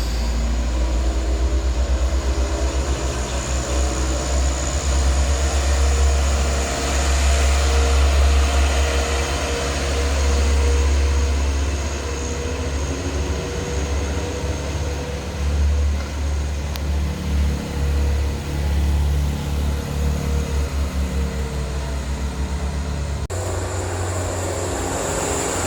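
A Mitsubishi Canter Euro 4 truck labors at full throttle up a steep climb it fails to make, giving a loud, steady low engine drone that surges slightly and cuts off abruptly near the end.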